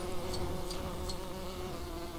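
A bee buzzes continuously in the video game Lego The Hobbit, a close, steady insect drone with a few brief sharper accents.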